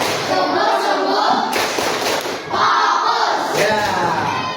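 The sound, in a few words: classroom rhythmic clapping, "tepuk fokus" clap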